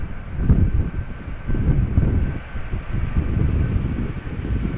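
An Icelandair Boeing 757 arriving from Reykjavik lands at Amsterdam Schiphol in crosswind, a distant low engine rumble swelling and fading with wind buffeting the microphone.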